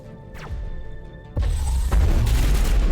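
Sniper rifle fire in the Mass Effect game on Noveria: a sharp whooshing shot streaks past, then a heavy booming impact crash, followed by sustained loud rumble and debris, with no talk over it.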